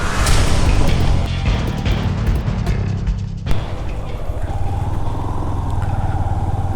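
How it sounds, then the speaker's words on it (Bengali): A motorcycle riding through a field toward a beach in Sitakunda, Bangladesh, with a loud, continuous close-up engine drone and wind rush, then a shift in engine tone midway. "মাঠের ভিতর দিয়ে মোটর সাইকেল নিয়ে চলে যাচ্ছি"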